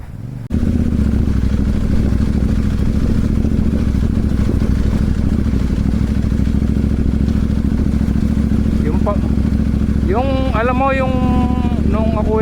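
A motorcycle engine drones steadily and loudly, with short rising revs near the end and a voice briefly audible.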